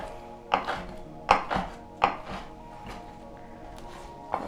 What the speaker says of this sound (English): just kind of chop them up a little bit